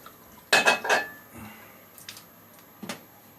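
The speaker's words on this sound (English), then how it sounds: "Okay, so I'm going to dump that water." Water is tipped out of a ceramic Williams shaving soap mug, with a few sharp clinks and a brief sloshing clatter close by, then quieter handling and one last knock.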